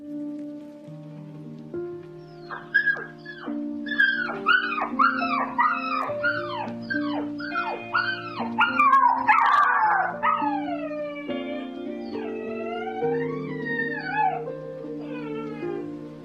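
A performer voices a dog during a school annual-day skit, imitating the animal with a series of rising whimpering yelps and a long wavering howl over a background of soft music.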